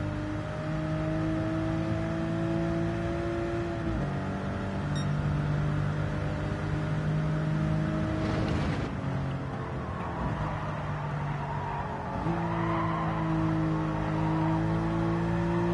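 A 1995 Porsche 911 Carrera RS (993) engine drones steadily through a lap, holding a strong tonal note, dipping and rising as gears shift and revs climb again, loud and close from inside the car.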